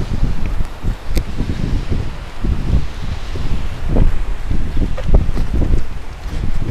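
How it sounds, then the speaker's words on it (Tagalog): Strong gusts of wind buffet the microphone in continuous rumbling bursts, loud and close, with a faint rustling in the background. "Lakas ng hangin"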